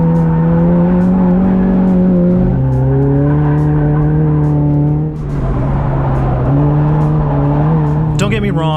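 A DIY Ecotec-swapped Mazda Miata on a race track, trail braking and oversteering mid-corner: a loud, close engine drone that drops in pitch under braking, dips briefly, then climbs again as the car accelerates out.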